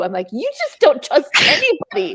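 A single sneeze bursts out in the middle of casual conversation, a sharp noisy blast breaking between stretches of close talking voices.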